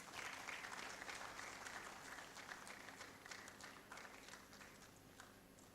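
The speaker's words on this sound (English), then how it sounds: "A round of applause as she comes." Applause from an audience at a book launch, steady clapping that gradually thins and fades over several seconds.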